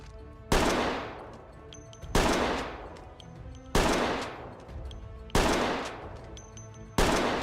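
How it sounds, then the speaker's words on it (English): Five loud gunshots ring out at zombies in the Project Zomboid video game, spaced about a second and a half apart, each with a decaying echo tail. "Alright, let's shoot them."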